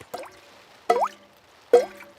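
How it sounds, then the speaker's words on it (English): Rain drips through a leaking roof in a cartoon, falling as three separate, resonant plops spaced about a second apart in an otherwise quiet room. "still it goes drippity drip drip"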